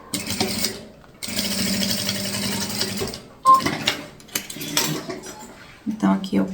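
A sewing machine stitches a seam on a small fabric mini shoulder bag, running in a steady burst of close, clattering whir before stopping, followed by brief handling and shuffling of the material.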